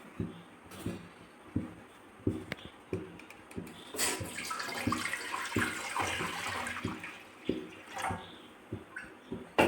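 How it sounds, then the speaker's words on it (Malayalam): Water pours into a pot set on the stove for making beetroot soap, a steady close splashing run with brief knocks and clatters around it, no talking. "കുറച്ച് വെള്ളം ഒഴിച്ച് കൊടുക്കാം"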